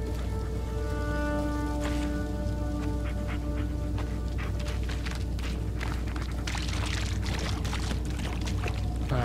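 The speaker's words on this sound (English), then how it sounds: "I really don't like walking through water." Footsteps wade through water in the Blair Witch video game, a continuous splashing and sloshing over a steady low ambient rumble, with no talking.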